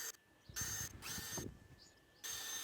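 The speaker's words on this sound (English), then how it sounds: "Just drilling lots and lots of holes." Power drill boring holes into the wood of a garden planter, several short whining bursts separated by pauses, close and clear with no talking.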